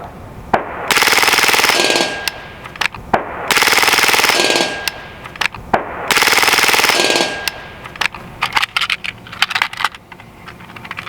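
A Hatsan Blitz .30 caliber air rifle fires three long, loud full-auto bursts of rapid, even, clattering shots at close range. Softer mechanical clicks and handling noises follow the last burst.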